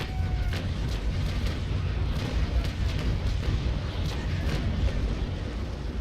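Carronade cannons fire from a sailing ship in a Naval Action sea battle, heard as scattered distant booms and thuds layered over a heavy, continuous low rumble of wind and sea.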